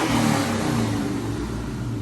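A car's engine revs hard up close, a loud steady mechanical roar with a deep low rumble that barely eases over two seconds, with no talk.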